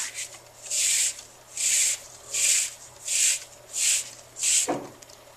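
A paracord survival bracelet is pulled apart by hand, producing six even, rhythmic bursts of rough rubbing and rasping as the cord unravels, close and steady, ending with a soft knock.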